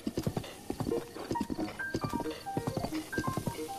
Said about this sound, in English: The horse is just turning on its own.